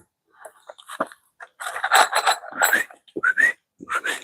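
Someone attempting to whistle produces short, breathy, airy whistle tones in uneven bursts, with brief rising pitch glides near the end, close to the microphone with no other sounds.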